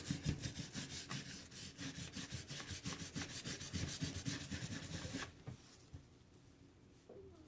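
Clay being smeared by hand to smooth a speckled surface, heard as a close, steady run of quick rhythmic rubbing strokes that stops abruptly near the end, leaving quiet.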